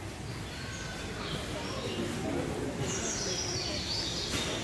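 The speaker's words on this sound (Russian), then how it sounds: "Ой, здесь прям так птички поют, и мне даже не хочется разговаривать." Recorded birdsong plays through speakers in an Auchan hypermarket garden section, with faint chirps and tweets over a busy store murmur of ambient noise and distant voices.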